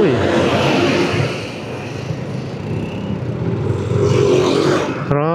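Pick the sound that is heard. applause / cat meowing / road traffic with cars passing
road traffic with cars passing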